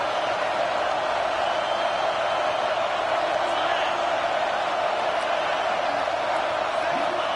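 A football stadium crowd cheering on a big third down in Texas, a loud, steady wall of roaring noise that holds without letup throughout, with no clear individual voices.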